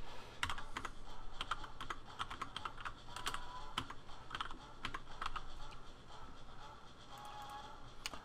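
Someone types on a computer keyboard, producing irregular bursts of crisp, close key clicks with short pauses between runs.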